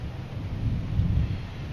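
Distant thunder rolls low and soft during a storm, a gradual rumble that builds and eases over steady background noise.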